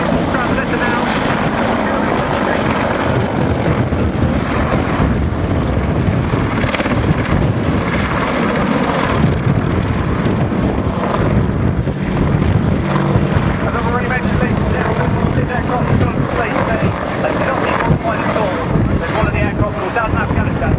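An Apache attack helicopter roars continuously and loudly through a flying display at the RIAT 2011 airshow, while a public-address announcer talks over the engine and rotor noise.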